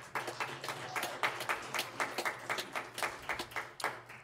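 A small church congregation claps in a brief round of applause at a livestreamed service, the individual claps distinct and fairly close, a steady patter that carries on to the end.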